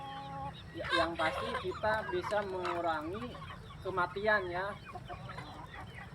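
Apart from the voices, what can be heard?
free-range kampung chickens clucking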